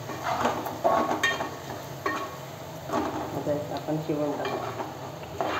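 A spoon stirs masala and turmeric in a pan for a Koli-style lobster curry, giving steady scraping and knocks against the pan over a soft sizzle, with someone talking throughout.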